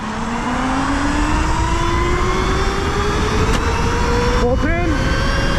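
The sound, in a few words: electric bike accelerating at full throttle in race mode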